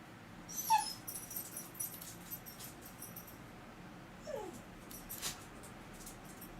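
Rio the dog lets out a few faint, high whimpers and yips close by, spaced apart over a quiet indoor background.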